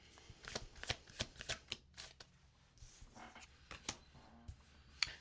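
A tarot deck is handled up close: crisp flicks and riffling snaps come in quick bursts, then quieter slides as a single card is drawn, with no one talking.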